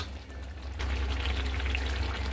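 Biryani masala with salt and chilli powder sautéing in a pan, a steady low sizzle that swells louder partway through and holds, with no talking.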